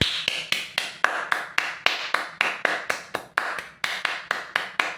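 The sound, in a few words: hand clapping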